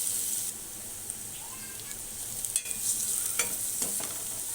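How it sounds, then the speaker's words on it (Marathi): Cumin, garlic, chili paste and turmeric sauté in a hot pan, giving a steady, moderately loud sizzle with scraping stirs and a few sharper clatters toward the end. "आपण एक चमचा जिरं टाकणार आहोत यानंतर लसूण आणि मिरचीचा ठेचा टाकून परतवूया"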